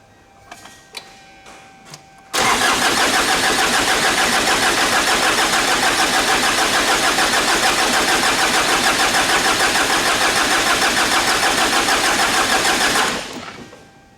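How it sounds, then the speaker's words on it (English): A Ford Ranger / Mazda BT-50 engine with a no-start fault cranks without firing: after a few faint clicks, a loud, steady rhythmic cranking runs for about eleven seconds, then cuts off without the engine catching. "I'll just probably have to hold it while I'm cranking it, and let's see how much fuel we get."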